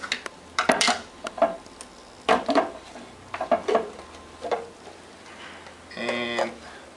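Part B container of Glaxs Tenax two-part epoxy glue being opened: close, small clicks, taps and plastic handling knocks in irregular bursts, with a brief scraping rattle near the end.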